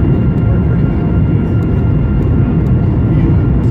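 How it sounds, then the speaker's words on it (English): An airplane drones steadily while circling over Melbourne in a holding pattern before landing, a constant loud low cabin rumble with no clear speech. "we're currently just circling Melbourne around and around until it's our turn to land."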